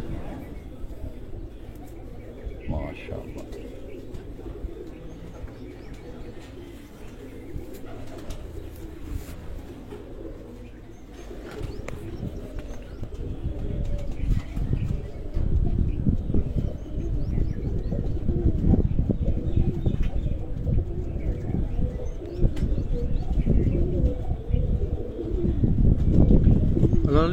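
Pigeons coo in a loft in Sargodha, a soft steady murmur of calls, with someone speaking briefly and the flock growing louder and busier toward the end.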